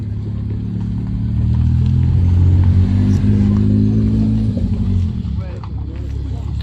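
Vintage Aston Martin, Porsche and Maserati sports cars drive past with a deep engine rumble that swells and fades, under steady nearby talk in French.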